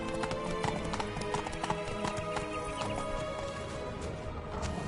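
Roach, Geralt's horse in The Witcher 3, gallops with rapid, steady clip-clop hoofbeats that are close and continuous, and a brief whinny rises over the rhythmic pounding.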